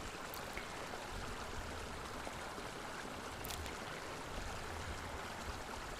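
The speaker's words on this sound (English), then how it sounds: "just next to a stream that comes straight from a waterfall" Steady rushing water fills the whole stretch, a continuous broadband wash of a mountain stream fed by a waterfall, with no voices, constant in level throughout.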